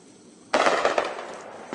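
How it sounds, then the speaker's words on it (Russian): Nearby small-arms gunfire crackles in a sudden burst of rapid shots outdoors in Donetsk amid combat, loud and sharp, followed by another burst. "начали стрелять у нас со стрелкового оружия рядом"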